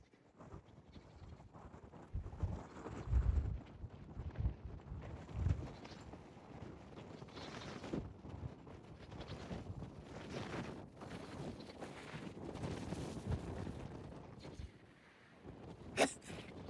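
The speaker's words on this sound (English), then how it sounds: "away from the protection of the house, you can really see the wind" Strong Wyoming wind buffets the microphone outdoors on a farm, gusting in loud, uneven rumbling bursts that rise and fall throughout.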